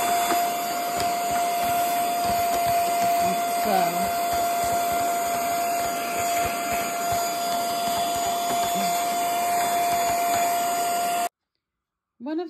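A mini vacuum with a brush attachment whines steadily at a constant pitch while cleaning inside a serger, with brief brushing rustles and a voice talking faintly beneath, cutting off abruptly near the end.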